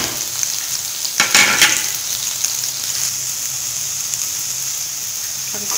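Onion fries with green chilli, crushed coriander and spices for a mooli paratha filling, giving a continuous close sizzle with a brief burst of stirring noise early on.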